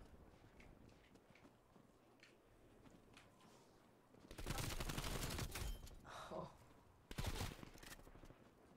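Gunfire in a video game: after a quieter stretch of faint game ambience, two loud bursts of rapid automatic shots ring out, the first lasting about two seconds and the second shorter.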